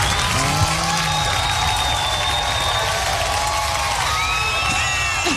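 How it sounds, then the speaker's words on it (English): A studio audience claps and cheers in a broad, continuous wash, loud and close, with occasional whoops and voices rising over the clapping. "They're not laughing. They're like clapping."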